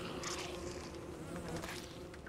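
Bees buzzing in the video game Don't Starve Shipwrecked, a steady droning hum that carries on without a break for the whole stretch, with no talk over it.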